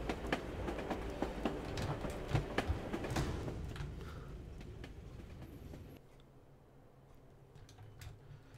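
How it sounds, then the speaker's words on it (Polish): A train rolls along in Assassin's Creed Chronicles Russia, a rumbling, clattering ride with sharp rhythmic knocks for the first six seconds, then dropping to a quieter, steadier hum. "I znowu po pociągu jeździmy."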